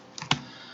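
A couple of quick keystrokes on a computer keyboard, two close, crisp clicks while typing code, alone without talk.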